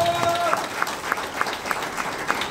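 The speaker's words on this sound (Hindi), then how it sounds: "हमारे क्राउन मिस्टर विक्रांत सर के लिए जोरदार ताली हो जाए" Seminar audience in Ranchi breaks into brisk applause, dense clapping with a few sharper claps standing out, while a voice briefly carries over the start.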